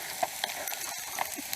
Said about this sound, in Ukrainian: Спершу обсмажимо лучок.